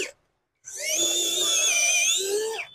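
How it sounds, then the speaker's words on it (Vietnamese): After a brief sound and a short silence, an ALEX cordless drill whines steadily into wood, its motor tone rising slightly near the end before stopping. "mình test thử khoan gỗ nha"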